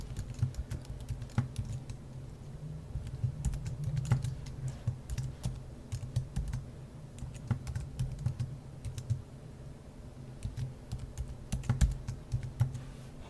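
Fingers tap a computer keyboard while a password is entered, producing quick, irregular clusters of crisp clicks with brief pauses, close and fairly quiet, with no voices.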